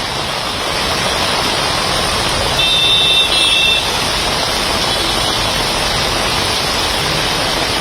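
Heavy night rain pours down in Chennai as a dense, unbroken roaring hiss, loud and steady throughout, with no voices over it.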